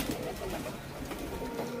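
A pet pigeon suffering from an illness coos softly in steady low repeated calls, close by, with no other prominent sounds.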